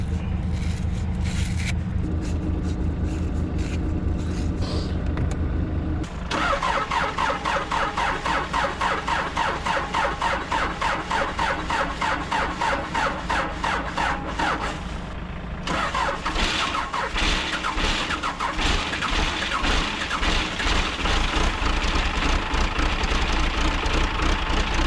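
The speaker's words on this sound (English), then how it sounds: "I need to do a couple things to this skid steer before winter." A neglected skid steer's engine runs steadily, a loud close mechanical drone with rhythmic pulsing that dips briefly and revs back up twice, alone without talk.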